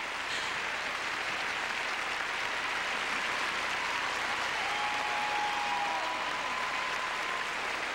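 An arena crowd in Las Vegas applauds figure skater Nancy Kerrigan with dense, sustained clapping that holds steady throughout.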